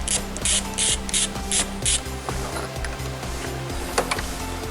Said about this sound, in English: right there is one more bolt with a 10mm socket, deep socket or extension that you need to get